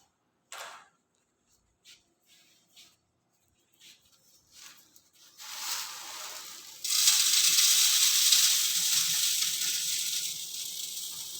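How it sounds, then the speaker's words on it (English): A laboratory sieve shaker running a stacked set of aggregate sieves starts up after some brief clicks and handling, then settles into a loud, steady mechanical rattling hum that continues to the end. "Then we will start the sieve shaker machine"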